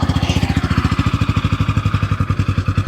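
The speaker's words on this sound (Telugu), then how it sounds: "ఒకసారి మీరు ఎగ్జాస్ట్ సౌండ్ కూడా వినొచ్చు." A Bajaj Pulsar N160 motorcycle with an underbelly exhaust idles at low rpm, close up, with a steady, fast, even thumping pulse throughout.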